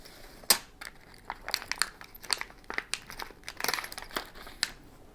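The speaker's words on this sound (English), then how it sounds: "So the first thing I'm going to do is get those screws off." Tight screws are loosened from a mandolin while its nut is replaced, giving a series of sharp, close clicks, creaks and scraping crinkles in an irregular rhythm against a quiet background.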